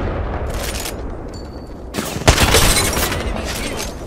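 Gunfire in the Apex Legends video game, a loud dense burst of rapid shots that starts abruptly after a quieter stretch of background noise and then keeps crackling to the end.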